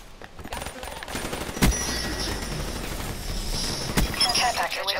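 Gunfire from Call of Duty 3 gameplay: bursts of automatic rifle fire with sharp shot transients near 1.6 and 4 seconds over a dense, continuous battle din.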